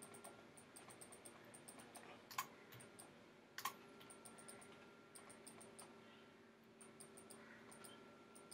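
Faint computer mouse clicks in a quiet room during 3ds Max modeling of an antique wardrobe, a couple of sharper distinct clicks standing out over light background ticking and hum.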